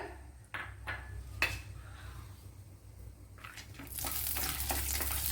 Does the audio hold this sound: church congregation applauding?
no